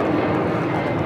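Embraer E190 jet at Los Angeles airport, a steady broadband engine roar held at constant loudness throughout, no voices over it.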